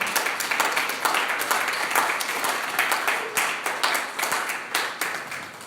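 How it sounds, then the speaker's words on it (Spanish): A church congregation claps steadily and densely, a sustained wash of many hands applauding together at moderate volume with no talk over it. "Denle un aplauso al Señor."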